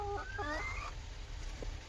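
European chickens cluck in a short, faint run of rising, squawking calls, followed by quieter background noise.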